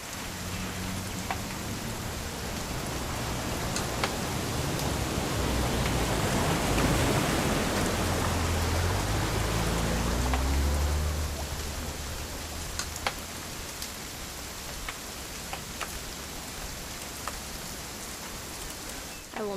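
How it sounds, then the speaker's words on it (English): Steady rain pours throughout a scene in the video game What Remains of Edith Finch, a dense hiss swelling mid-clip with a low rumble, then settling, with scattered sharper drops on top. "It's gonna rain the whole weekend,"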